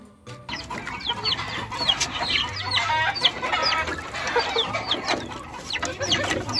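A flock of chickens clucks and squawks continuously while being watered, with a rooster crowing amid the busy, loud chatter throughout.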